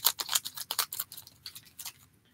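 Scissors snip through toy packaging in a quick run of crisp, close cuts, busy at first and then thinning to a few sparse, quieter snips.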